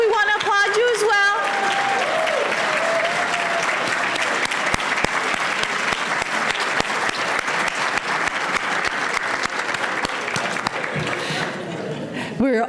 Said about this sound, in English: We want them to please stand and give you a big round of applause